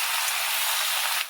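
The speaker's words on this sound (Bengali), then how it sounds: "ভালো করে সবজিগুলো ভালো করে ভেজে নিচ্ছি।" Vegetables frying in hot oil after prawns, bay leaf and five-spice seeds, with salt, turmeric and chilli added; a steady loud broadband sizzle runs throughout and cuts off near the end.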